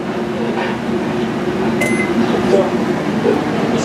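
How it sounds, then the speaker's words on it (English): A microwave oven hums steadily and loudly, with a beep and faint clinks over the continuous drone. "I can start the microwave"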